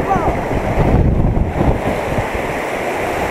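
Sea waves at a beach, a steady wash of surf with wind buffeting the microphone, close and loud, swelling briefly in the middle before settling into a constant roar.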